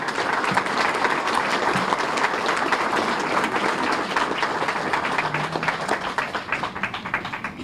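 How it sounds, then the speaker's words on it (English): An audience applauds Korean War veterans at an Ambassador for Peace Medal ceremony, sustained dense clapping from a large crowd that holds steady and fades slightly toward the end. "we owe them a great round of applause for their service, their sacrifice"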